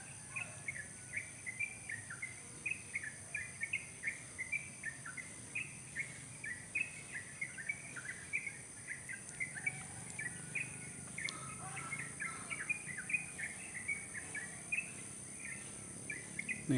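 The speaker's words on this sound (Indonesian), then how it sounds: "Nih, burung ada di sini di pohon rambutan" Wild birds sing in the morning from a rambutan tree in a village in Depok, a faint, rhythmic series of repeated chirps over a steady insect and cricket hum, with no voices.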